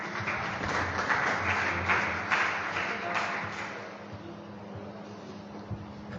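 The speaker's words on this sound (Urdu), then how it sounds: "بھرپور تالیوں میں آپ لوگوں کی" Audience applause rolls through a school awards ceremony, a moderate wash of many hands clapping that swells in the first seconds and then gradually thins and softens.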